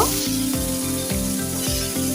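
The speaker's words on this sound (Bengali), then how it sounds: "হালকা লবণ দিয়ে আলুটাকে ভেজে নেব" Close, steady sizzling of lightly salted potatoes frying in oil, with a faint rhythmic mechanical pulse beneath it.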